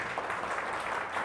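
A church congregation claps loudly in praise of Jesus Christ, a dense, continuous wash of applause with no break.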